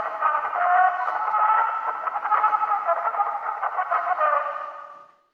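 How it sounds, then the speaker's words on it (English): Early Edison phonograph cylinder recording played back, a thin, narrow-band, muffled sound with a steady mechanical drone, heard for about five seconds before fading out. "one of the things he invented was this machine called the phonograph"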